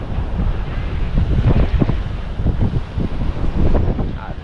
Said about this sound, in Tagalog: Pero maliliit na yung alon.